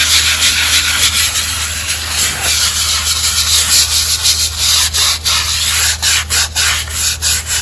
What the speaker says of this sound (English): And scrubbing both the paver and in between the cracks.